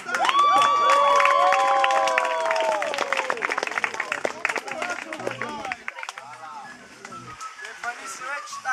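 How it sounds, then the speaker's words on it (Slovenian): An audience at a 2013 children's oratory stage show in Moravče breaks into applause with cheering and excited shouts. The voices start high and loud, then scattered clapping continues and gradually thins out. "en aplavz za Evstahija."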